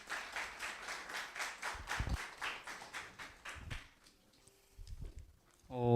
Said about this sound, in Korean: 우리 졸업생 대표 첫 번째 김준 선배 나올 때 박수 한번 주시죠